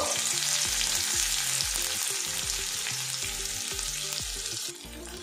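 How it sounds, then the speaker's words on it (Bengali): Chopped onion fries in spiced oil in a pan, a loud continuous sizzle with a rhythmic scraping stir running through it. "পেঁয়াজটা আমি ভাজা ভাজা করে নেব।"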